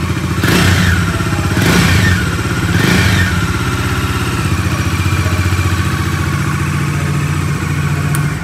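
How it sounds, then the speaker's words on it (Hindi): A 2022 Bajaj Dominar 400 motorcycle's 373.3 cc engine idles close up with a throbbing, clattery beat, blipped three times early on in quick revs before settling back to a steady idle. "अब कर लेते हैं बाइक को थोड़ा सा रेव।"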